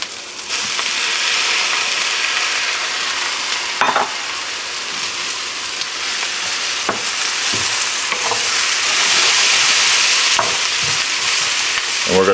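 Shrimp and cabbage fry in a pan for a lo mein, a steady loud sizzle running throughout, broken now and then by a few scraping stirs and clicks of a utensil, with no talking.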